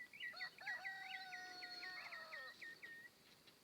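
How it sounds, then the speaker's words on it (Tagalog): Roosters crow in long, drawn-out calls, overlapping one another at a moderate distance against a quiet farm background at sunrise. "tahimik dito sa bukid. Nag-iingay lang yung mga ibon."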